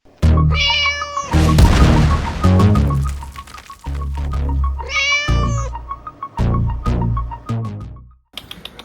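A kitten found under a car meows repeatedly in high, harmonic cries, close and fairly loud, with short pauses and some soft rustling and bumps between calls.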